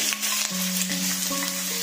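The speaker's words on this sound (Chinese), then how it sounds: "把我的排骨放进去，快速翻炒均匀" Pork ribs tossed quickly in a wok of amber caramelized rock-sugar syrup, a steady close sizzle with scraping stir strokes and faint clinks of the spatula against the pan.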